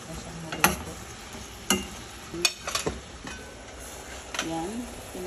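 Shrimp cook in a pan, with a steady low sizzle under scattered sharp clinks and scrapes of a utensil stirring against the metal.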